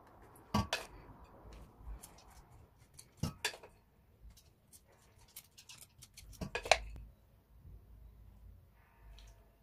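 Soaked, uncooked rice is layered over eggplant in a pot for maqluba, heard as a few sharp close clinks of a utensil against the pot, with softer scrapes and taps between them in a quiet room.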